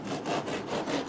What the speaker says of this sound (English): use a sawing motion